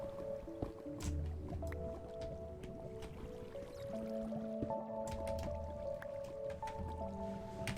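Water in a Minecraft world drips steadily in a repeating pattern of soft plops and squishes over low game ambience, with no talk.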